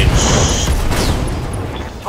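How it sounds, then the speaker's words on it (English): An AC-20 autocannon ammunition explosion in the mech combat game RogueTech: a loud, dense burst of crackling and booming with mechanical clatter, holding steady for about two seconds. "AC-20 ammo explosion, so there's only one part of him left"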